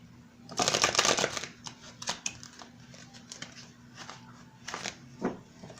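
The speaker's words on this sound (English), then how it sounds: "your cards do not want to shuffle" Tarot cards being shuffled close by: a dense riffling burst, then several shorter crisp flutters and taps, with no talking.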